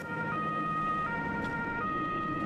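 An airport ambulance, one of the airport's own rescue vehicles, sounds its siren in a steady wailing tone, fairly close and continuous throughout, with road noise underneath.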